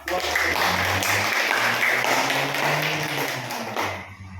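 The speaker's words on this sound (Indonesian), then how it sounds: "Tepuk tangan." A group in a classroom applauds together, a thick, even wash of clapping that holds steady for several seconds before trailing off.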